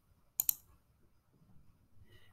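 A double mouse click on a present button, two sharp close clicks in quick succession against quiet background, followed by faint rustle.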